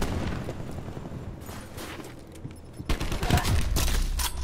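A shotgun fires repeatedly in the Call of Duty: Black Ops 4 video game, with loud, dense bursts of gunfire and booms that build toward the end.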